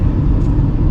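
A Tata Punch driving on the ghats of the old Mumbai-Pune highway near Khopoli, heard from inside as a steady, loud low engine and road rumble with no break.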